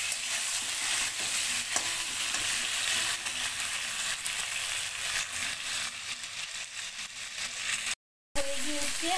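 Prawns frying lightly in hot mustard oil give a steady, loud broadband sizzle that runs almost unbroken, with a short silent gap near the end before the crackle resumes.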